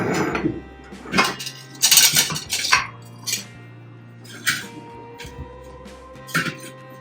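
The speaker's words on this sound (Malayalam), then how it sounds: "അരിപ്പൊടി കുഴക്കാനുള്ള പാത്രം" A vessel for kneading rice flour being handled, with several sharp metallic clanks and scrapes of pots and utensils in irregular bursts, a low hum running underneath, close and fairly loud, no speech.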